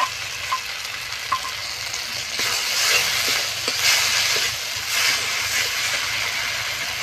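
Cumin and coriander leaves hitting hot oil in a village-kitchen fish curry, giving a steady frying sizzle that swells louder midway, with faint stirring clicks and no talk.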